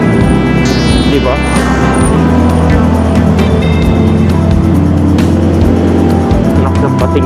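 Road traffic during a long motorcycle ride in the Philippines, cars and engines passing loudly and continuously nearby with tire noise, plus someone talking over the din.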